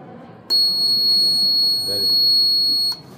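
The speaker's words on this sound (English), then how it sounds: "When we switch on the switch, the buzzer beeps." A buzzer wired into a student's science fair model sounds one sustained, piercing electronic tone lasting about two and a half seconds, loud and close, and then it cuts off abruptly.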